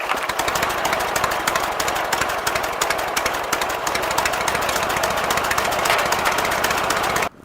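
A Briggs & Stratton engine on a tractor, rope-start type, runs steadily at a fast, rattling chug, loud and close, with no break for the whole stretch.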